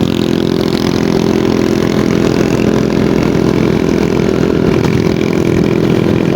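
A motorcycle ridden downhill on a road from Bacon, Sorsogon to Manito, Albay, its engine buzzing loud and close in a steady, unbroken drone throughout.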